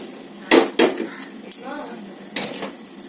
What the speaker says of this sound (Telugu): ఇలా గరిటె పెట్టి అయితే తీసేసుకోండి